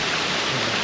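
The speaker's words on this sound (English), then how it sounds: "this is looking down at the waterfall" Waterfall at the LA County Arboretum, seen from above: a steady, dense rush of falling water fills the whole moment, loud and close, with no voices.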